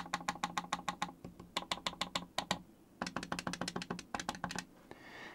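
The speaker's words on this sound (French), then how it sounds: "Écoutez bien le bruit d'une manette Xbox d'origine." Buttons on an original Xbox controller pressed in quick rapid bursts of sharp clicky taps, close and fairly quiet, with short gaps between runs.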